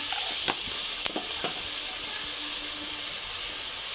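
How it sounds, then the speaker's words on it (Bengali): Spices frying in oil in a pan for a sour-spicy sardine fish curry, a dense steady hiss with a few sharp stirring knocks near the start, close and even throughout. "মশলাটা আমি এখন একটু কষবো ভালো করে"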